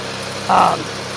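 A 2005 Chevy Equinox engine idles with a steady, close mechanical hum and a faint rhythmic pulsing, briefly overlaid by a short tonal sound near the middle.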